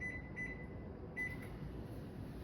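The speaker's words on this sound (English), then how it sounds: "I'm gonna throw these in the microwave for 15 seconds at a time." Microwave oven heating s'mores, a low steady hum running throughout at fairly quiet level, with a couple of faint high tones near the start.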